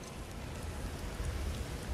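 Heavy storm rain in the realm of Alfheim in a video game, a dense steady hiss of downpour with low rumbling, loud and continuous with no talk.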